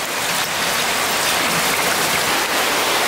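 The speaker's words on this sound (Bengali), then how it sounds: "এখন বৃষ্টির সাউন্ড এরকম মনে হচ্ছে" Heavy rain pours down steadily in a dense, even roar of drops hitting surfaces, loud and unbroken, with no one speaking.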